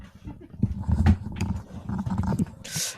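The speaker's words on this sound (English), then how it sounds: "thought the dog wanted to go out. She just wanted to come downstairs." A dog moves around indoors with panting, shuffling and light thumps, close and moderately loud, with a brief bright hiss near the end.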